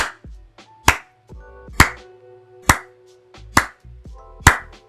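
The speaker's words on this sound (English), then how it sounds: "Slow clap." Five slow, evenly spaced hand claps, sharp and close, about one per second, with a bright musical tone sounding between them.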